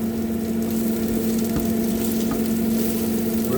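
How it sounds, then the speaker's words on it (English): Eggplant frying in a pan for eggplant parmesan, a steady continuous sizzle with a faint low hum and a few soft clinks, close and alone. "It's sizzling."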